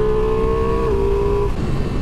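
A Ducati Multistrada V4S Rally motorcycle engine accelerating, a loud, close, steady whining drone that holds its pitch, steps down briefly, then cuts out after about a second and a half, with rumbling wind noise underneath.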